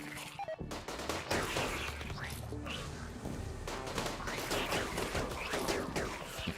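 Heavy SMG gunfire in Rimworld: dense, overlapping bursts of rapid shots from several weapons crackle continuously through a chaotic battle, with loud impacts and clatter throughout.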